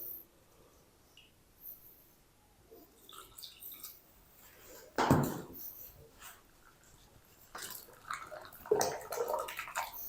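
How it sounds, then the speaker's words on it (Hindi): Water is poured from a cup into a gram flour and semolina mix for pumpkin kebabs, a short close splash and trickle with scattered clinks and stirring noises, quiet between sounds. "चलें दूसरा कप भी शामिल कर देते हैं पानी का।"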